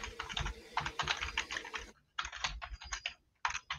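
Close-up typing on a computer keyboard: quick bursts of keystroke clicks, a short pause near the middle, then another run of rapid taps, with no voices.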